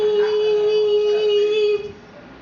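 A voice imitates an emergency broadcast test beep, holding a single steady, piercing tone for nearly two seconds before it cuts off, with nothing else around it.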